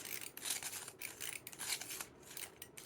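A Sonic Rachetta handheld pencil sharpener ratchets as its pieces are turned, giving faint, rapid clicking and scraping bursts close by, broken by short pauses.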